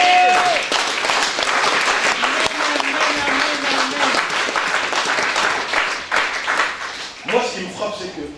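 A church congregation breaks into sustained applause and cheering, a dense, loud wash of clapping that continues for several seconds with voices mixed in.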